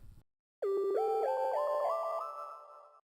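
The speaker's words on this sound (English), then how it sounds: "I have these little synth loops that go on throughout the pre-chorus and the chorus that sound like this." Bright little synth loops from a pre-chorus and chorus arrangement, a rising and stepping pattern of sustained tones that plays alone after a brief low thump, holding steady before fading slightly toward the end.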